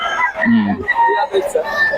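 Several roosters crow and chickens cluck nearby, the calls overlapping with some background voices.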